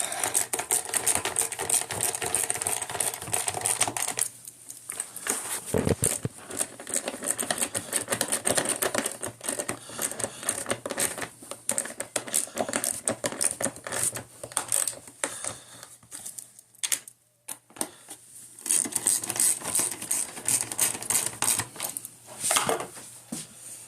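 Screws being run back into a Whirlpool, Maytag or Amana washer during a repair, giving a dense, busy stream of rapid clicking and ratcheting taps with a few brief pauses.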